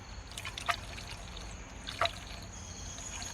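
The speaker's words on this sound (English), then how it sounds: "now you just pour it into the funnel" Coolant mix poured into a filler funnel on a Porsche Cayenne Turbo, a soft continuous trickle with two brief splashy bursts, faint and steady throughout.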